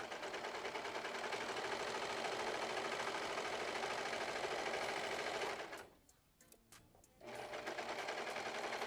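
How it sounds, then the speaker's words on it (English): A serger sewing machine stitches a skirt panel, running loud and steady with a fast mechanical whir for most of the stretch, then stopping briefly for about a second before starting up again. "Got the serger out, and I will present it to y'all when I get this panel on."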